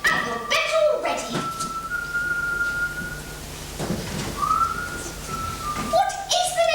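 A person whistles the Welsh song All Through the Night, sustained clear notes in a slow melodic line, with a dog whimpering and yipping nearby and some voices in the background.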